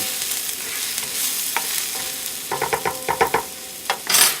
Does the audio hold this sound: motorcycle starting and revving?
no